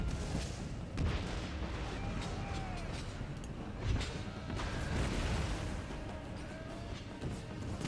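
Grenades and musket fire in an Empire Total War battle thud and crack through a continuous rumble of combat, with a few heavier blasts standing out from the muffled, steady din.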